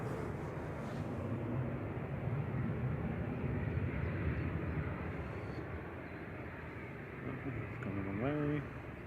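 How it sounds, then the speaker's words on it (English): An EasyJet Airbus A320-200 departing Manchester Airport for Palma de Mallorca, a steady broad jet roar holding for the whole stretch, fairly loud, with a brief rising tonal whine near the end. "It's EasyJet off to Palma de Mallorca, A320-200"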